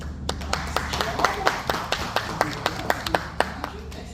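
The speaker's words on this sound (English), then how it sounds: "Let's give our torch bearers a big round of applause." Applause for torch bearers at Scienceworks in Melbourne: a small group claps in a loose rhythm, with distinct individual claps over low background hum and faint voices.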